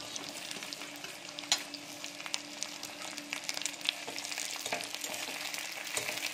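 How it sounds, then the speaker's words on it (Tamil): Okra (vendakkai) frying with curry leaves in hot oil: a continuous crackling sizzle, with a spatula scraping and clattering against the pan at irregular moments, close and fairly quiet. "இப்போ அடுத்தது வெண்டைக்காய் ஆட் பண்ணிக்கலாம்"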